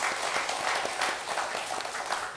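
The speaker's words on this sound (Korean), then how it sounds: "우리 박수로 환영하겠습니다." A church congregation at a Korean Sunday worship service gives a short burst of warm applause to welcome a newly registered young member, dense clapping from many hands sustained evenly for a couple of seconds.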